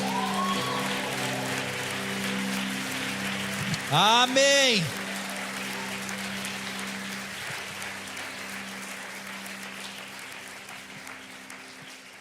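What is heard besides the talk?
congregation applauding in church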